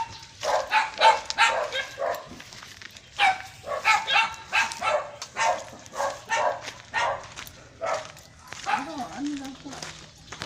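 A dog barks repeatedly in quick bursts, fairly close and loud, with short yips and pauses between volleys; a person speaks briefly near the end.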